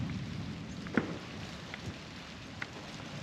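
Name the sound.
thunderstorm with rain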